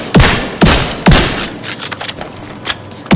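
A shotgun in The Division 2 fires several heavy, booming shots in quick succession, each a sharp loud blast with a short tail, followed by lighter mechanical clatter between rounds.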